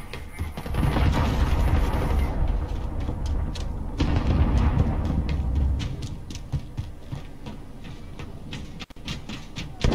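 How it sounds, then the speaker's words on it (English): Explosions from a cruise missile strike in a shooter video game, heavy booming blasts and rumbling bursts that roll loudly for several seconds, then fade into scattered smaller crackles and thuds. "Allied cruise missile away"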